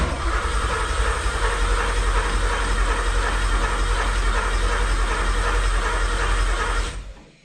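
A Porsche V8 engine idles steadily with a loud, close, continuous rumble and hiss, warmed up to temperature, before cutting off abruptly near the end.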